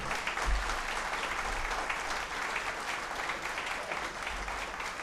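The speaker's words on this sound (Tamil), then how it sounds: "இந்த கைத்தட்டு பத்தாது." Steady applause from a large audience at a Tamil stage event, dense continuous clapping that stays at an even level throughout with no talk over it.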